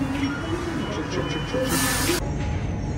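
At an Indian metro station, a loud, steady hiss and rumble of a train fills the platform, continuous throughout with a brief brighter surge just before it settles.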